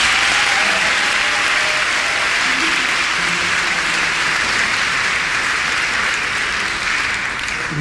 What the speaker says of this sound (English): you give the choir one last hand,